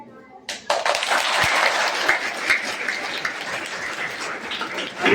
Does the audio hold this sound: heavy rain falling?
no